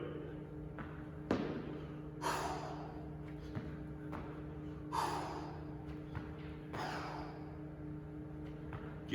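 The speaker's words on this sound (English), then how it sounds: "You can hear me timing my own breathing down" Heavy breathing after a warm-up of Tabata air squats, sit-ups and push-ups, with several loud, breathy exhales spaced a few seconds apart over a low background hum.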